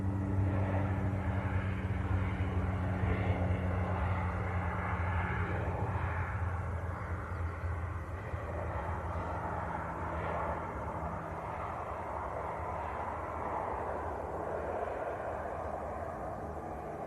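EasyJet airliner passing overhead at Manchester Airport, a distant steady engine roar and low rumble that fades slightly over the clip.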